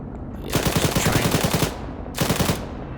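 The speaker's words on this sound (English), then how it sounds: "So I can shoot fragmentation out of my cannon, so doing some major damage to that structure" In the video game Arma 3, a tank fires fragmentation rounds in two rapid automatic bursts, loud and close, each a dense rattle of shots lasting about a second.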